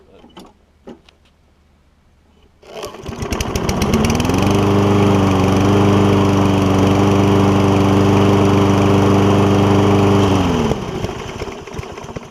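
A Toro Recycler lawn mower with a Kohler engine starts up and runs with a steady, loud drone, rising to a higher, even pitch and then winding back down near the end, with no talking.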